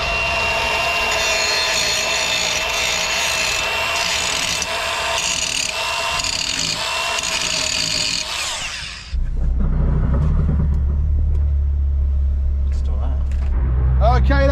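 The Ford Focus ST race car engine runs on track at Silverstone, first as a steady high-pitched whine, then dropping into a loud, deep, continuous rumble.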